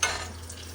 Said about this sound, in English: I got some of the Portuguese sausage cooking right now